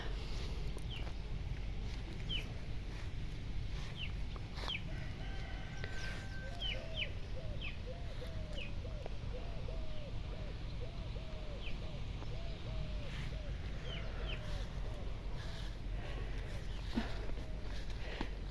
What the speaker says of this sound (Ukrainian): Ціпоньки ходять, уже кидає кочка.